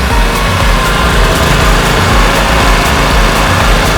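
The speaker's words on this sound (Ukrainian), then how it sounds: "можемо побачити, що генератор працює рівненько" A Profinstrument BG-3800 petrol generator runs close by with a loud, steady, even engine drone that holds unchanged throughout.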